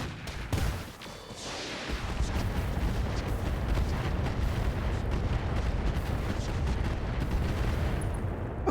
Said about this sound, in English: we're going to fire the MRM-40